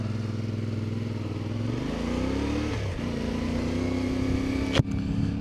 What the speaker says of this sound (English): One thing that does sound great is that engine. Parallel twin engine.